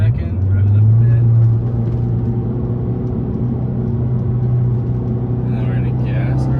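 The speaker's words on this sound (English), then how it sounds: "put it in second, rev it up a bit" A first-generation Mazdaspeed3 engine revs in second gear, a loud, steady low drone that swells briefly near the start and then holds an even pitch, with a voice faintly at the end.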